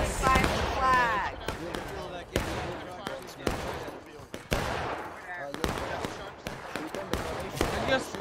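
Musket fire rings out in the Civil War game War of Rights, sharp cracks and booming reports scattered irregularly, some near and loud, others farther off, with voices shouting over the battle.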